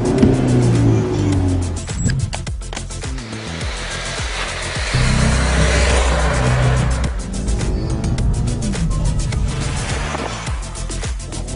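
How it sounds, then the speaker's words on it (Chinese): A 2020 Lynk & Co 05 compact SUV with a 2.0T engine and eight-speed automatic accelerates on a test drive, its engine note rising and falling through gear changes, loud and continuous inside the cabin. "我能感觉到这台车它的这个提速表现啊非常的优异"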